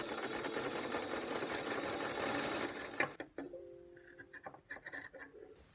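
A sewing machine runs steadily for about three seconds along one edge of a drawstring bag made from a shirt, then stops. Close handling clicks and brief mechanical whirs follow, with no voices.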